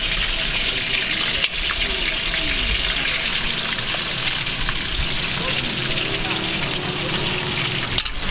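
Nasi goreng frying at a street food stall in Medan, a steady loud sizzle with splashing, clattering water-like noise running continuously, a couple of sharp knocks of utensils against the pan.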